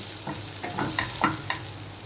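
Chanda fish fries in oil with a constant crackling sizzle, marked by a few brief stirring scrapes and spits, close and steady with no voices.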